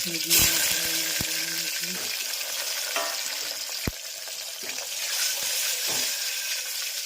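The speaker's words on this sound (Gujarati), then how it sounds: "અને મસ્ત મજાના કારેલાનો વઘાર." Bitter gourd tempered in hot oil with mustard seeds and cumin, a loud, steady close sizzle with a few sharp pops and utensil clinks early on.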